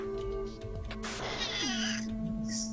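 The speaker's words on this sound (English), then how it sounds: "that's when the cat goes, I need attention" A cat in an indie game meows for attention, with a long drawn-out cry sliding downward partway through, over steady background game music and no talk.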